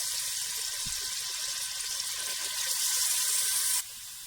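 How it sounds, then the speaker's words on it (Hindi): Lukewarm water pours steadily into a cooking pot of pea pulao with green chilies and ginger, a loud continuous rushing hiss that stops abruptly near the end. "अब मैं इसमें पानी डालने लगी हूँ।"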